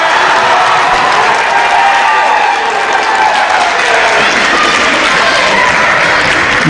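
A loud, dense crowd cheers and applauds without a break after a hit in a junior girls' volleyball final, the roar holding steady throughout.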